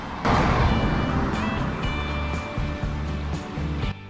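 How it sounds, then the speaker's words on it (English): The Marron river rushing through a ford by the bridge at Bridgefoot, near Little Clifton in Cumberland: a loud, steady, broadband roar of water that runs on without a break. "It's a beautiful ford, that. And rushing water."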